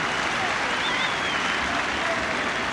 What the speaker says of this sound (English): the Cardiff crowd enjoying the performance he's put on so far